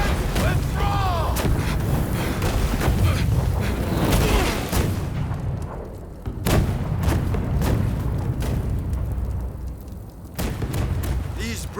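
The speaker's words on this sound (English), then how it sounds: "These British cannons pack quite a punch, don't they, Saigo?" British cannons fire in the video game Rise of the Ronin, heavy booming blasts and crackling volleys rolling across a battlefield, several shots in irregular succession with fainter voices mixed under the din.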